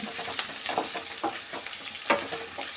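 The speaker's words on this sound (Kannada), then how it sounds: "ನೋಡಿ ಕಲರ್ ಚೇಂಜ್ ಆಗೋವರೆಗೂ ನಾವು ಈ ಥರ ಫ್ರೈ ಮಾಡ್ಕೊಬೇಕು" Ingredients for tomato chutney frying in a pan keep up a continuous crackling sizzle, with irregular scraping and stirring knocks breaking through at close range and no voices.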